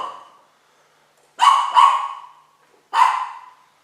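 A dog barks indoors: a short bark, a quick second one right after, then a third after a pause, loud and near with no talk over them.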